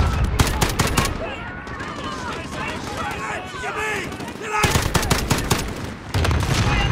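Heavy bursts of automatic gunfire in the Call of Duty Modern Warfare video game, loud rattling volleys at the start and again near the end, with a quieter stretch between, under a speaking voice.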